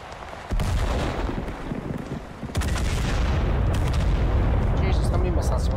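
Missile barrages and heavy explosive fire in the war game Total Conflict Resistance, loud rumbling booms and blasts piling up continuously, with a sharp burst partway through that sustains to the end.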